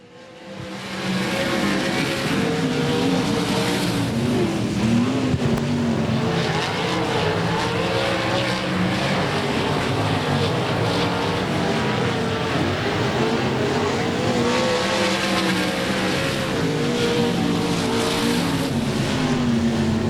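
Sprint cars of the NCRA Sprint Car Bandits roar around the dirt oval at Golden Triangle Raceway Park, a dense, continuous engine howl from several cars at once with rising and falling revs, loud and steady throughout with no talk.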